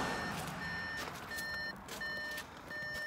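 Warning beeps inside a switched-on SEAT Mii electric hatchback, a repeating pattern of short high tones at a steady rhythm, close and fairly faint over a low background hum.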